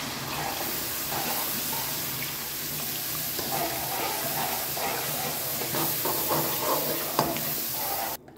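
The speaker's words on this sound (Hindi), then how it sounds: "अब इसको हम अच्छी तरह से भूनेंगे अपने दूध को भी इसमें" Chickpea masala roasting in a pan as milk is added to cook down into khoya, a continuous broad hiss and bubbling sizzle, close and fairly loud, with faint clatter near the end and no talking.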